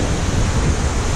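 On a water rapids ride at Europa Park, rushing turbulent water and wind buffet the microphone in a loud, continuous roar with no clear voices.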